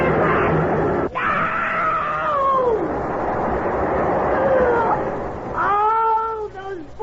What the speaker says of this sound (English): All those screaming people.